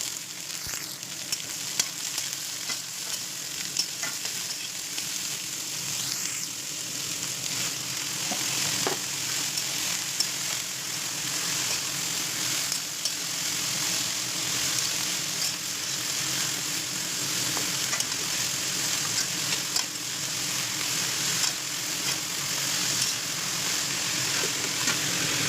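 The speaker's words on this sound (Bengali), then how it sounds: "এরপর কেটে রাখা সব সবজিগুলো এর মধ্যে দিয়ে কিছুক্ষণ নাড়াচাড়া করে নেব।" Chopped mixed vegetables stir-fry in a hot pan for a Bengali-style mixed veg dish, giving a dense, continuous sizzle with occasional faint stirring clicks, close up and without talk.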